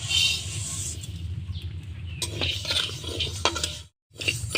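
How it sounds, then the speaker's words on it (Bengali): Steady hiss and dry rustle of moong dal frying in a hot wok, with a few scraping stirs, continuous and close before a brief drop to silence near the end. "দেখুন কড়াই গরম করে নিয়েছি, এখন আমি ডাল ভেজে নিচ্ছি।"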